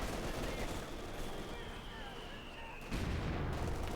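A mortar in Company of Heroes 2 fires and its shell lands amid a continuous rumble of battlefield gunfire and explosions, with a sharper blast near the end.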